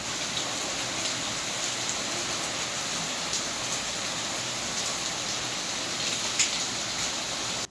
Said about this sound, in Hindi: सुबह सुबह ही बहुत तेज़ बारिश हो रही है